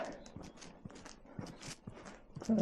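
Rhythmic hoof clip-clops of a horse walking on a hard surface near Sippenaeken, Belgium, steady and moderately close, with voices talking over them.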